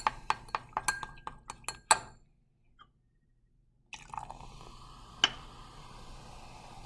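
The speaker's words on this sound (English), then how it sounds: "I'm going to take this vinegar, I'm going to pour it into here" Vinegar poured into a container for a kitchen chemistry test: a run of sharp glassy clinks, a quiet pause, then a steady soft pouring hiss with one more clink.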